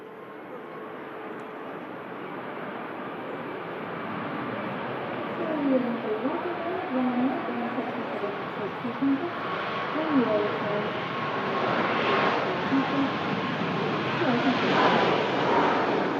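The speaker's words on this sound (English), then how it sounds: "Ryanair just touching down behind the EasyJet" A Ryanair airliner touches down at an airport, its steady broadband jet roar building slightly louder toward the end, with a voice talking over the top throughout.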